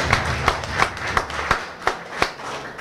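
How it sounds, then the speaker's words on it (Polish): Hand clapping at a Polish high school prom ceremony, heard as sparse, separate claps in a loose, even rhythm, fairly close and distinct rather than a full crowd roar. "Wielkie brawa dla Państwa."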